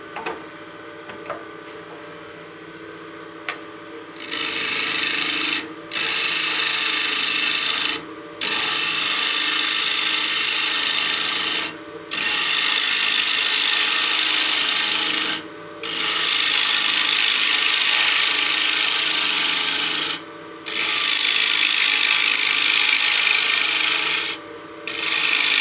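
A gouge cuts bulk wood from a wooden box lid spinning on a lathe, a loud, harsh rasping scrape in long passes broken by about five brief pauses.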